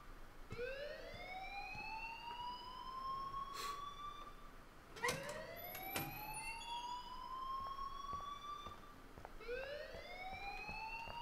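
Fire alarm in the video game Life is Strange wailing in repeated rising sweeps, steady and moderately loud with brief clicks between cycles and no talk.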